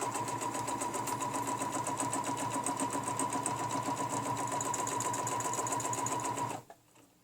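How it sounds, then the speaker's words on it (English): Sewing machine stitching steadily along a ruler, turning a corner, with a continuous loud motor whir and rapid needle rhythm that stops abruptly near the end. "you just tilt the ruler up and stitch and continue that line"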